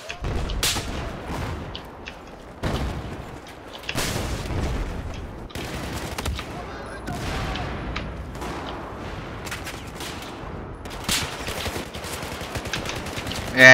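Repeated bursts of gunfire and explosions in a Battlefield 4 team deathmatch, loud and close with rapid automatic volleys and sharp single shots spread across the clip, and faint voices in places.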